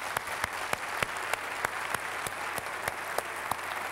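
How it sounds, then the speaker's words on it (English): Applause from a seminary commencement audience, a steady wash of many hands clapping at moderate distance, with a few sharper individual claps standing out at a regular pace. "would you give these folks a round of applause?"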